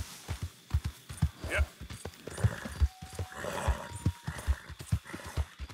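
A horse gallops in the video game Red Dead Redemption 2, its hooves striking in a steady, rhythmic clip-clop close by, with a brief whinny partway through.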